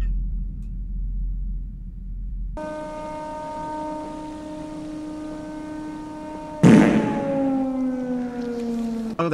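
A siren inside a video game rises into a sustained tone with steady harmonic layers, then swells abruptly and wails downward as the blast trails off; a short low rumble opens the clip before it starts.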